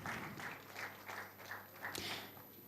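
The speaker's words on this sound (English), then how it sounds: "let's give a huge round of applause for one last time to all the speakers from Japan" Audience at a conference applauding the speakers: faint, rhythmic clapping swells in soft repeated bursts, heard from some distance.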